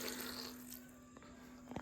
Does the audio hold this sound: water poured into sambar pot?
yes